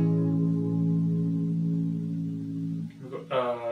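A thick, distorted electric guitar major seventh chord rings out and sustains for about three seconds before fading, followed by a brief voice.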